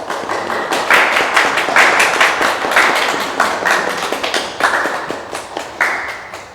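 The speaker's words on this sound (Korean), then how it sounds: "환영의 박수 보내주시기 바랍니다" Church congregation at a Sunday service gives a welcoming round of applause, a loud, close patter of many hands with sharp individual claps, rippling continuously throughout.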